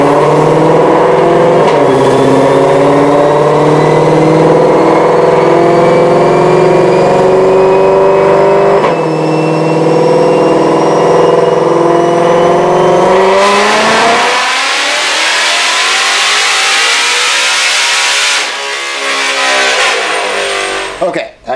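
A supercharged car making roughly 996 horsepower on a 2.7 pulley revs hard through a dyno pull, a loud, close engine note climbing steadily in pitch for about thirteen seconds, then a higher whining stretch before abruptly cutting off.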